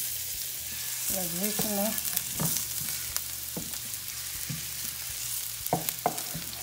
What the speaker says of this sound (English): put this in first, the ginger. Let it start frying.